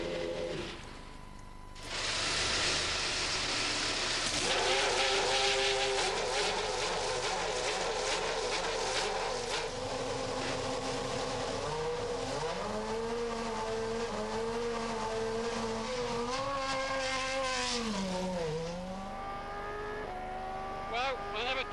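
A 2000 Ferrari Formula One car on a racetrack, its high-pitched engine loud and close throughout, rising and falling through gear changes and revs with a brief dip near the start.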